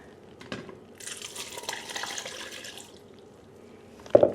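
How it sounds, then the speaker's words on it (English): Tart cherry juice poured into a bowl while canning cherry pie filling, a steady liquid splash lasting a few seconds, close and moderately loud, ending with a brief clink. "I will pour that into my bowl first."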